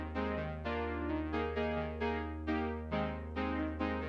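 Top-right layer of a four-layer digital synth pad, repeating chord stabs in a steady pulsing rhythm with rich upper harmonics and a low sustained drone, heard alone.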